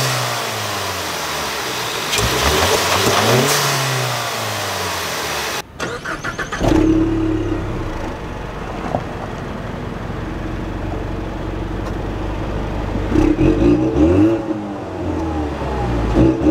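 A 2022 Ford Mustang coupe with a 2.3L turbocharged inline-four EcoBoost engine and 10-speed transmission starts and revs, the engine rising and falling loudly and close by across the clip, with no talking.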